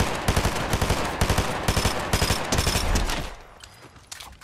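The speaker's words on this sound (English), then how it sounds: "I shot the one with the pistol." Pistol fire in the Fortnite video game, several sharp shots in quick bursts, loud and close, that trail off after about three seconds.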